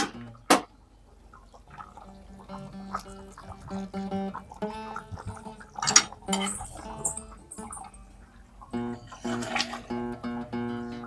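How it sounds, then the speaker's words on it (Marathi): Fish curry simmers in a pot, with soft bubbling and gentle plops breaking the surface intermittently, plus a few sharper clinks, heard close and quiet without talking. "त्या गोळा चांगली उकळी या ठिकाणी आलेली आहे"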